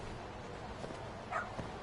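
A dog in the video game Lost Judgment gives a brief, faint whimper near the end, barely above a steady hiss of game ambience.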